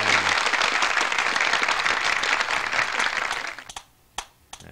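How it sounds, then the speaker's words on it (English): Steady, dense crowd applause at a player town gathering inside the Shroud of the Avatar online game, continuous for several seconds before thinning to a few scattered claps. "Give yourself a round of applause."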